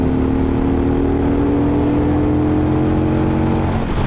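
Two sport motorcycles, a KTM Superduke and an Aprilia Tuono, accelerating hard side by side on the autobahn, a loud sustained engine drone with steady pitch and heavy wind noise, no talk.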